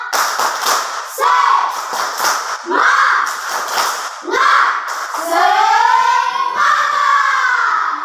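A classroom of students performs a rhythmic spirit clap led by one pupil, bursts of patterned group clapping mixed with chanted voices, fairly loud and close.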